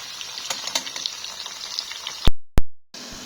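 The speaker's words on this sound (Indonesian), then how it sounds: "Aku goreng kentang" Potatoes fry in a hot pan with a steady crackling sizzle and scattered pops, close and continuous, ending with a couple of sharp knocks and brief silences.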